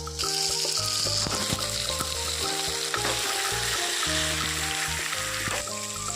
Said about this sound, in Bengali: এই সবগুলো আমি খুব ভালোভাবে এসবটাকে তেলের মধ্যেও ভেজে